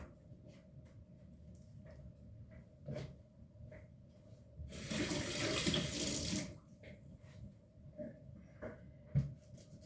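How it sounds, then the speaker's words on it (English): Kitchen tap running for a couple of seconds while an onion is rinsed, a close steady splashing stream surrounded by quiet handling clicks and clatter. "Rinse it out. Always want to rinse out your veggies"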